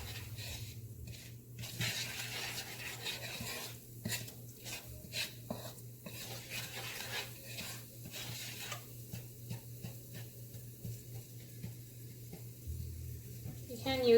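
Ground spices sizzle and crackle as they heat and begin to brown in a pan, a steady low fizz running throughout with occasional clinks and stirring scrapes, close and moderately quiet, no voices.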